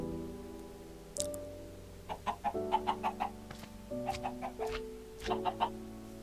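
Chickens in Minecraft clucking in short, rhythmic bursts of rapid clucks, fairly close and quiet, over a layered synthetic musical drone that shifts pitch a few times.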